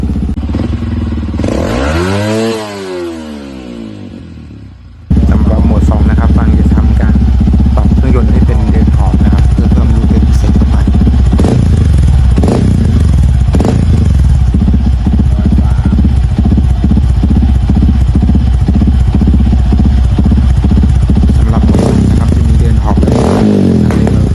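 A Yamaha WR155 motorcycle with its rev limit raised to 13,500 rpm revs hard and loud, a brief rising blip first, then a sustained high-revving engine bouncing against the limiter with rapid stuttering pulses.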